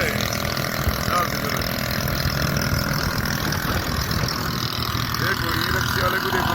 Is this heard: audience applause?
no